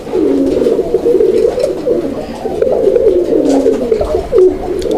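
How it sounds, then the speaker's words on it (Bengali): A pigeon coos loud and close, its rolling throaty calls repeating in rippling phrases, with no talk over it. "যদি না ডাকাইতে পারে তাহলে তো আবার বলবো যে বেতন ভাই কবুতরটা তো ডাকালেন না"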